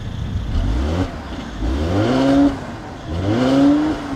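A 2015 Mercedes-Benz C-Class engine revs in three rising pulls, each climbing in pitch and then dropping back, loud and close with no voices.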